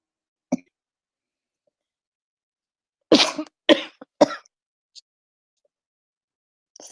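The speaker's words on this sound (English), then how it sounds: "Sorry, you guys, if I'm coughing." A few sharp coughs in a quiet room: one short cough, then a cluster of three harsh coughs close together, followed by faint small throat sounds.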